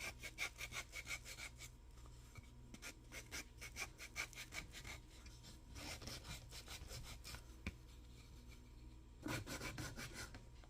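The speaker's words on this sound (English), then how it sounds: "sanding the rough spots off" Steady, close scraping of wood being sanded with a sander, a continuous rasping rhythm of quick strokes running throughout with no voices.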